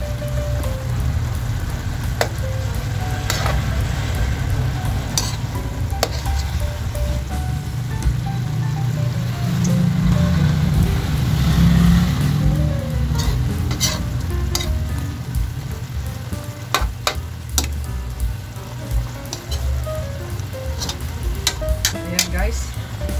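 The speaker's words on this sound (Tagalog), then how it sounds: "Balik ta rin lang natin guys yung ating chicken para yung kabila naman ng maluto." Chicken hamonado sizzles steadily in a pan while it is turned and stirred, with sharp scraping and clinking utensil taps breaking through the continuous frying hiss, close and fairly loud.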